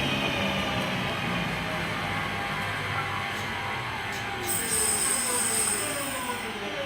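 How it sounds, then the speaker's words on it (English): Passenger train departing Selly Oak station on a delayed service to Longbridge, a continuous loud rumble of wheels and motors with a faint high squeal, no voices. "departing here is a delayed 1423 service to Longbridge"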